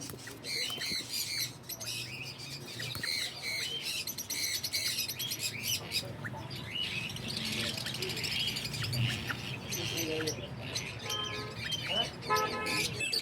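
A breeder pair of pet birds at an Islamabad pet shop squawks and chirps repeatedly, sharp calls scattered over a busy background with faint traffic and a distant voice now and then.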